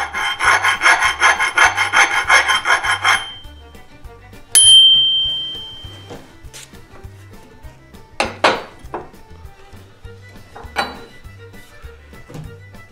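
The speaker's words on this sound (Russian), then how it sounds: "Если твердость стали высокая, то напильник по ней скользит," A fine-cut file scrapes in rapid strokes across hardened axe steel, a dense, close rasping burst over the first few seconds, followed by scattered clicks and light clatter of metal handling.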